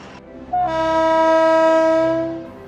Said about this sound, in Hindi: पटरियों पर दौड़ती कोयले से लदी यह रेलगाड़ी देश के बिजली घरों को रोशन करने चल पड़ी है।